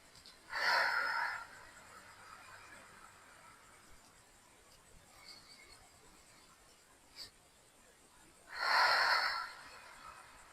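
Two deep, loud breaths close to the microphone during a seated guided breathing exercise, one near the start and one near the end, with near silence between them.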